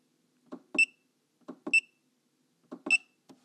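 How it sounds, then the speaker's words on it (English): Three short electronic beeps from buttons on an AllPowers R600 portable power station, each preceded by soft button clicks, come at a regular pace, crisp and close. "the power button is the only one without an audible beep when you press the button"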